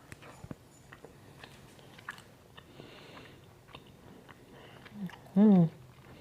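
Someone bites and chews a strip of dehydrated homemade guava, giving faint, close, scattered crunches and mouth sounds, followed by a short hummed or voiced sound near the end.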